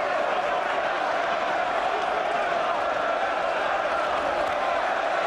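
A packed arena crowd at the Carl Froch versus Mikkel Kessler rematch boxing fight, a dense, steady roar of voices with no distinct peaks.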